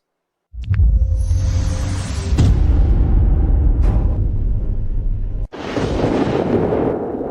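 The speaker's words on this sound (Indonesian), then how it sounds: "Guntur menggelegar tapi tak kunjung turun." Dramatic thunder sound effect: a deep, loud rumbling crash that rolls on for several seconds, briefly cuts out, then bursts back with a second heavy roll, with no voices over it.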